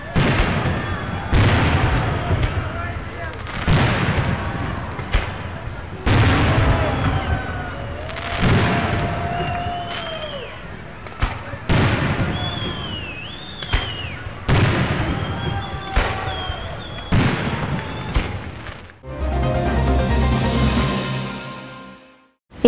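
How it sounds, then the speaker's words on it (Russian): A fireworks display closing a town celebration, with loud booming bursts repeating every second or two, crackling and whistling rockets, distant crowd noise, and a different sound taking over near the end. "Завершился праздник красочным фейерверком."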